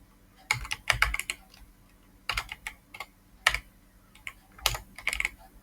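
Code being typed on a computer keyboard in quick bursts of clicky keystrokes separated by short pauses, close and clear with no voice.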